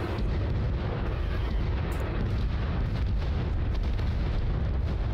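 An artillery barrage in the video game Crossfire Legion sounds as a dense, continuous roar of overlapping explosions and booms, loud and unbroken throughout.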